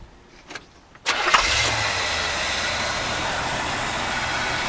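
A 1975 Corvette C3 convertible, neglected for 34 years, cranks and fires after a couple of faint clicks, then settles into a steady, rumbling idle that continues alone.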